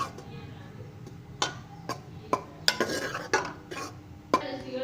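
Gram flour (besan) being stirred as it roasts in a pan for a besan and egg halwa, with sharp intermittent scrapes and clinks of a spoon against the pan over a low background.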